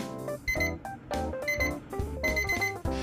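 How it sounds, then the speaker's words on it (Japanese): Daiso budget digital desk clock sounding its alarm: clear electronic beeps in quick repeating clusters, close and loud with no voices. "まずアラーム時刻になるとアラームが以下のようになります。 0秒から10秒がピッピッピッ"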